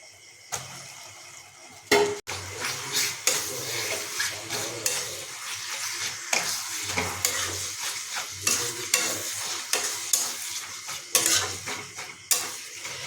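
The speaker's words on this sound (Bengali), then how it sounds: "আমরা যেহেতু খাসি মাংসের চর্বি মশলার উপরে যোগ করেছি তাই এটাকে মিনিট পাঁচেক ধরে ভালোভাবে কষিয়ে নেব" Mutton fat sautés with spices in a pan for mutton ghugni, a soft sizzle broken by repeated close scrapes and clinks of a spoon stirring against the metal, with no voices.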